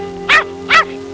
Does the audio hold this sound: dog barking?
yes